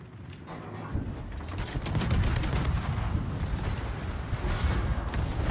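Naval guns firing in the game World of Warships, heard as dense rumbling bursts and rapid repeated booms that build to a continuous loud barrage, with no talking.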